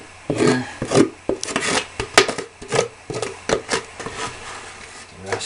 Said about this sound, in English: Just scraping out the bucket here.